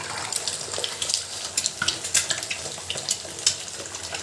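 Eggs sizzle in a hot pan as they fry for spicy egg bhuna, a steady crackling hiss with scattered sharp pops, fairly close and without talk.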